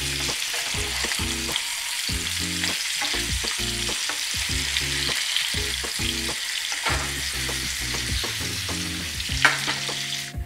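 Fish pieces shallow frying in a pan for Punjabi fish curry, a constant loud crackling sizzle punctuated by repeated spatula knocks and clatters, with no voices.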